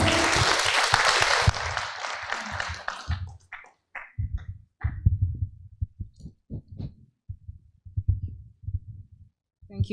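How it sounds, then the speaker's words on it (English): A launch-event audience breaks into loud, dense applause that fades out after about three seconds. Scattered thumps and a speaking voice follow. "Please give her a round of applause."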